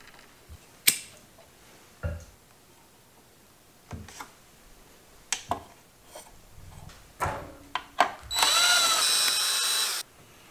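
A power drill driving screws to strip out mounting holes for a fan on a 3D printer's power supply, heard as several short separate bursts with creaks, then a sustained high whine of about two seconds near the end.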